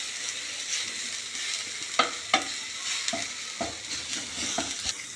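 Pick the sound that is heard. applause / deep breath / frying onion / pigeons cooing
frying onion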